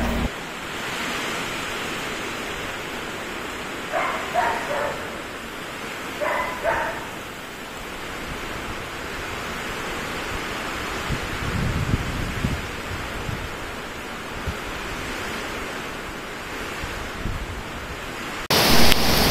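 Heavy typhoon rain pours in a steady broadband hiss, loud and unbroken, with low rumbles and a dog barking briefly in the distance.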